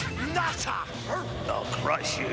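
A dog barks and yips in several quick bursts, mixed in with a voice talking over it.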